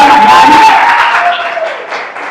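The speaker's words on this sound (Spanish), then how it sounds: "Denle un aplauso al Señor en esta mañana." A church congregation applauds at a Sunday morning service. The clapping is loud and close, with voices under it, and it fades over a couple of seconds.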